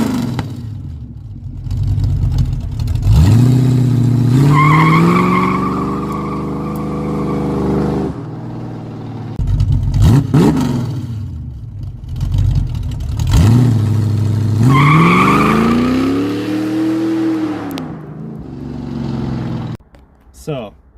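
A car with an open differential and changed rear gears revs hard and accelerates as it slides sideways, engine rising in pitch twice with a lull between, loud and close, while a person talks over it.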